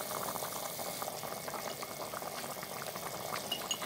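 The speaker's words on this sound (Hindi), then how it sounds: "बॉयल आ चुका है इसमें" Water at a rolling boil in a pot for chana pulao, a soft continuous bubbling and fizzing with dense small pops, faint and even throughout.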